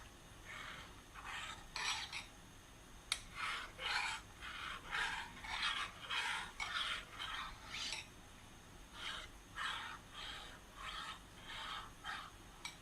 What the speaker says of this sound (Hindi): ऐसे इसको अच्छे से मिक्स कर लें।